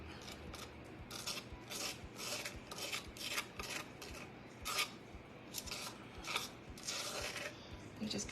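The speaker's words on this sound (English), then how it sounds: "you just kind of press it in and scrape" Rhinestones are pressed into and scraped across a pink decorative cross, making repeated close, faint rasping scrapes in short bursts with small clicks between strokes, and no voices.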